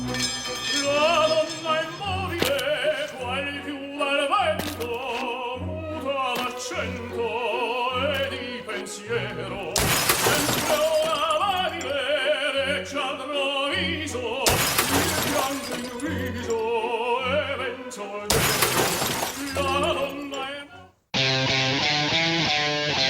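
A BMW 7 Series' security glass shatters in three loud, sudden smashes spaced a few seconds apart, each a burst of bright crashing glass cutting through steady background music.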